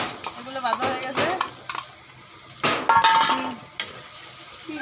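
Potatoes, onions and green chillies fry in a pan with a sizzle, broken by loud metal spoon scrapes and clanks against the pot while stirring.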